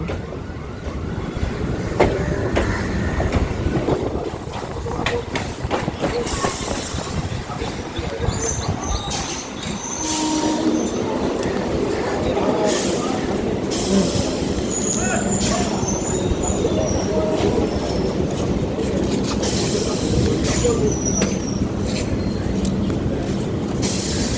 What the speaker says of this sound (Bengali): বন্ধুরা ট্রেন এখন আমাদের চলে এসেছে বড়বাজারের কোড হচ্ছে BZB।